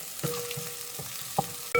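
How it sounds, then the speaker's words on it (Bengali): Spice paste fries in oil, a faint steady sizzle broken by soft scraping strokes of a spoon and a few brief clinks. "মশলাটা খুব সুন্দর করে ভাজা করছি,"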